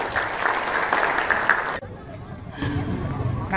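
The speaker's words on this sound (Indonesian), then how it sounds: "Tepuk tangan ya." A live audience applauds and cheers as a talk or speech event breaks for clapping, with a dense burst that stops abruptly partway through and gives way to crowd murmur and babble.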